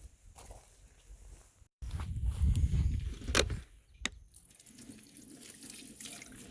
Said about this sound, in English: Need some water to pour on it so I don't cook that belt in half